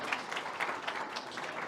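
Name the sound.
applause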